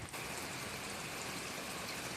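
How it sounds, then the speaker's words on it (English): Heavy rain pouring down outdoors, a dense, even hiss of falling water that stays steady and fairly faint throughout with no voices. "it's pouring down rain"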